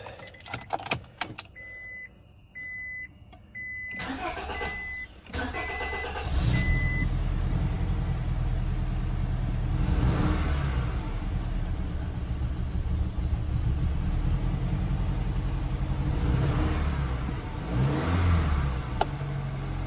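Keys jingle and a few clicks, then a Honda engine cranks and starts after a carburetor cleaning, settling into a loud, uneven idle that surges and wavers for the rest of the clip.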